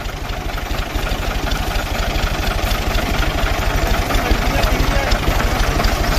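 A tractor engine runs steadily during a wheat harvest in a rural village, a continuous low rumbling drone with rapid regular firing pulses, loud and close throughout.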